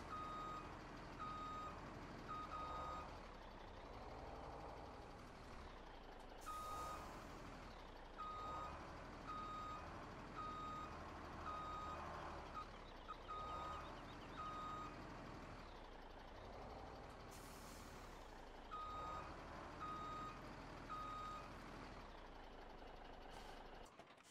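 Steady electronic reversing beeps from a truck backing in during Farming Simulator 17, repeating at an even rhythm over a low engine rumble with brief hissing bursts, and no talking.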